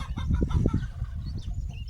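Chickens cluck in short bursts nearby, a few overlapping calls that fade toward the end; no one speaks.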